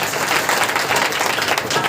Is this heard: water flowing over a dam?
no